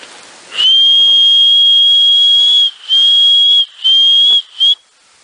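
A loud, sustained high-pitched human whistle calling racing pigeons in, held for about two seconds, then repeated in three shorter bursts, close to the microphone, in wind.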